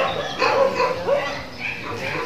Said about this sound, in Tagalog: So yun po yung mga aso sa loob.